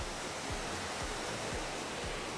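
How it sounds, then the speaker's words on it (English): A waterfall swollen by recent rain roars steadily, a dense even wash of rushing water close by with no pauses or voices. "Look at this waterfall up here."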